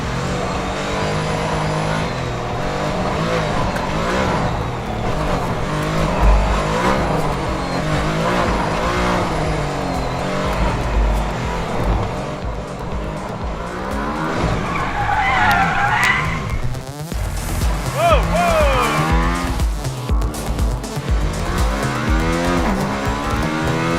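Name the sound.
car engine revving and tires skidding on a track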